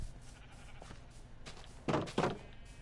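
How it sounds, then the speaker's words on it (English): Two short sheep bleats from Minecraft, fairly close and clear, spaced a moment apart over a quiet game background with a soft thump earlier. "we got a sheep trying to run"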